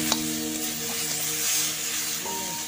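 Stinging catfish cooks with gourd in a pan, giving a brief, close sizzling and frying hiss with some stirring and a faint steady hum underneath.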